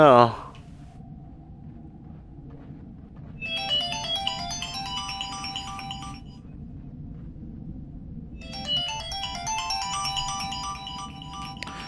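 Two bursts of a bright, repeating electronic ringtone from a phone in the Lifeless Planet video game, each lasting a few seconds over a low ambient rumble, with a pause between them.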